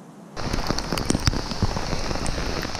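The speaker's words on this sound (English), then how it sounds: "The rain kind of slacked off a little bit after that, but then came an absolute flood." Heavy rain comes down in a sudden flood, starting abruptly and becoming a dense, loud, steady patter of drops hitting surfaces nearby, with no talking.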